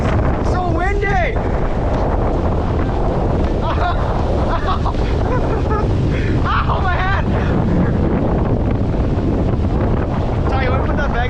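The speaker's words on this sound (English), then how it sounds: "It's so windy!" Strong wind roars over a mountaintop, buffeting the microphone in a loud, continuous rush, while people shout and talk over it and small rocks are blown against legs.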